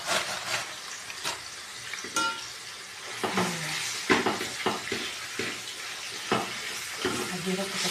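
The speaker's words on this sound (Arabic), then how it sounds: "هدي بس تشويحه الاول كده قبل ما احط البصله عليها" Minced meat sautéing in a pan for creamy béchamel pasta, a soft steady sizzle broken by repeated scraping stirs, close and fairly quiet.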